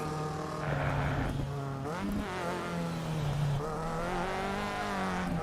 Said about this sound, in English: That's a nice sweet sound from the exhaust.